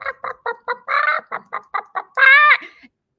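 Chickens cluck in a quick run of short, separate bursts that build to a longer, drawn-out squawk near the end, close and fairly loud with no talking.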